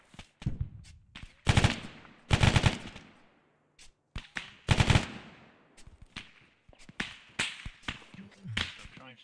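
Gunfire in a military video game: sharp, close bursts of rapid automatic fire and single cracking shots, some loud and some softer and farther off, spaced by short gaps, with no talking.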